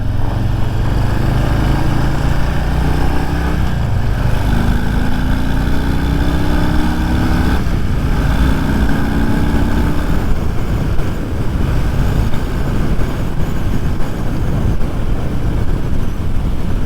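A Harley-Davidson Street Bob 114 motorcycle cruises in sixth gear at around seventy miles per hour, its engine droning steadily under heavy wind rush for the whole ride, with a few small shifts in pitch and no talking.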